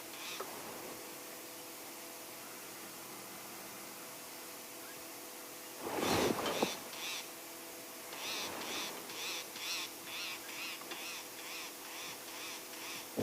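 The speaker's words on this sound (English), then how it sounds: "Listen to the bird alarm calling at the hyena." Sharp repeated bird alarm calls at a hyena ring out in bursts on an African safari, a loud harsh outburst midway then a rapid series of chattering calls, over faint outdoor background noise.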